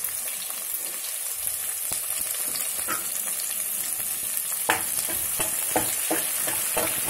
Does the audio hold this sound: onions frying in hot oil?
yes